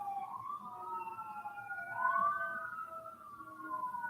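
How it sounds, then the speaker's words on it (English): Faint, distant sirens wail, their pitch sliding up and down and overlapping, over a quiet background. "Ooh, I hear sirens."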